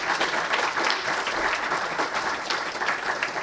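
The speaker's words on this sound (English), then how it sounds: "we can clap." Audience clapping at the close of a foreign relations council talk on culinary nationalism, a steady dense round of applause from a room full of people, fairly loud and continuous throughout.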